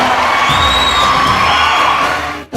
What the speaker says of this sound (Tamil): இதை எல்லாரும் நம்பினா எல்லாரும் ஒரு கரகோஷம் எழுப்புங்க.